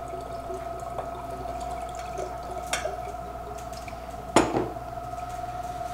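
Wine poured through a handheld wine aerator in a kitchen makes a steady liquid trickle with faint drips and a couple of sharp glassy clinks, close and fairly quiet.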